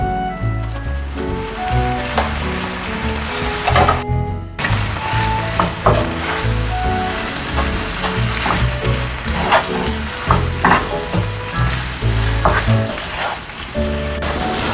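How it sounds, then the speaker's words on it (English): Pasta is stirred into avocado cream in a pan, producing a loud continuous sizzle with repeated scraping and clinking stirs throughout, close up and without talk. "Now we're going to add the pasta into the cream."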